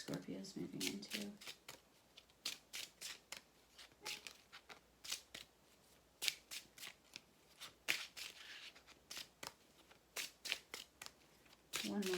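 Tarot cards are shuffled by hand in a quick series of soft riffling bursts, close and quiet, repeating steadily.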